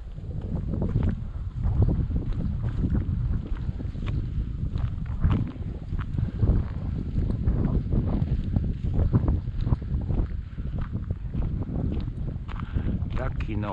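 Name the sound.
wind blowing outdoors during bird dog training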